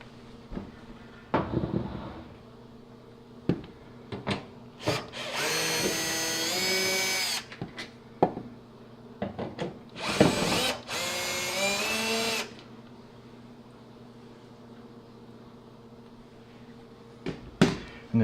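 A power drill removes hex screws from a GE dryer door in two sustained whirring bursts, with clicks and clunks of the door and handling between them.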